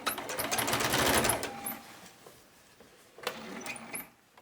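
Sewing machine stitching a seam on a quilting-cotton fabric bin, a rapid mechanical whir that runs for about a second and a half, then stops, followed by a short second burst of stitching, fairly quiet and close.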